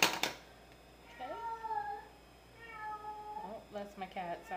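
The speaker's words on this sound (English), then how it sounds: "that's my cat, sorry. He likes to hear himself talk" A pet cat meows several times in drawn-out, rising and falling calls, close and clear against a quiet room, with a short pause between a first pair of cries and a later run of shorter meows.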